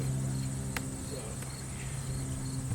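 Honeybees hum as a hive is opened on a farm, a low, steady drone heard close under faint background noise, with a couple of short clicks and knocks from handling the hive.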